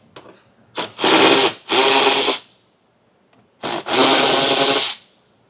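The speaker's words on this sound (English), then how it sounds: "Now underneath our vehicle, we'll have two 10 millimeter bolts here to remove." A power tool, likely an impact driver, works on 10 millimeter bolts underneath a vehicle while a hidden trailer hitch receiver is installed; two loud, sustained whirring runs, each led by short blips, with a silent pause between them.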